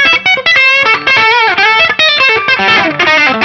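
An electric guitar played with heavy distortion rings out in a loud, close run of sustained bent notes and quick licks, full and saturated throughout.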